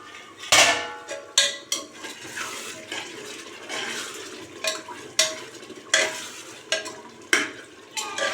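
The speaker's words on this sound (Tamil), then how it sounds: "நடுவில் ஒரு டைம் கிளறி விட்டுருலாம்." A spoon scrapes and clanks against a pot of cooking chicken biryani in repeated strokes, with a wet, sizzling stir and metallic knocks at irregular intervals.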